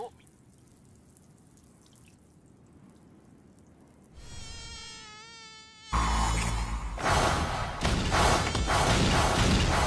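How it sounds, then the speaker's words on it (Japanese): A dense swarm of mosquitoes gives a loud, steady, high-pitched whine that swells and fills the space, sharp and close throughout the second half. "ここで蚊が大量発生 して"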